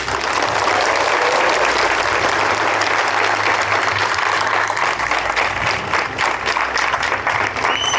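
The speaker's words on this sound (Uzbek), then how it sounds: "Bu o'quvchimizga ham qarsak chop qo'yasizlar." Sustained, dense applause from a school audience congratulating a student who earned a national subject certificate, loud and continuous across the whole stretch.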